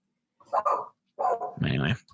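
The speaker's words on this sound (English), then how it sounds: "you got a dog" A dog barks nearby, a couple of short close barks followed by a louder, deeper bark, with silence between them.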